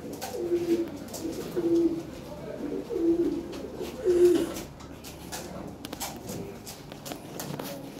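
Large Lahore pigeons coo in low, repeated rounded calls at close range, with shuffling movement and faint voices in the background.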